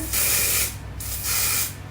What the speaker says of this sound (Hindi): इस पे कोम पे स्प्रे करेंगे